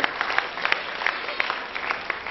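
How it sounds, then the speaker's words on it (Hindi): Applause from an audience at an Independence Day programme at DIET Rambagh, Muzaffarpur, Bihar: a short, steady burst of clapping with a few sharper claps standing out, moderately loud. "जोरदार ताली बजाते हैं"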